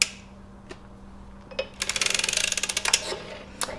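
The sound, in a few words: sock knitting machine crank clicking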